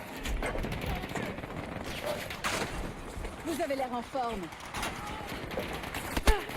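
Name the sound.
machine gun fire in a video game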